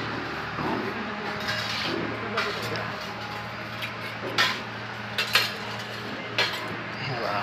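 Plates, spoons and bowls clink and clatter in a busy waterpark dining area, with a few sharper knocks standing out over steady crowd murmur and background chatter.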